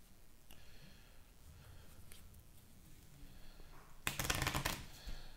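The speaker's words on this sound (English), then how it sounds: "I have to shuffle my deck." A deck of playing cards riffled and bridged during a solo tabletop card game, a short loud burst of crisp flutter following a few seconds of quiet room tone.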